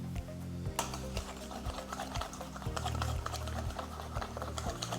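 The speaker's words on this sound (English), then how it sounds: "And we're just gonna whisk it together." A whisk clatters quickly and rhythmically against a bowl as a sauce seasoned with drops of hot sauce is blended, a steady close-up tapping and swishing that lasts throughout.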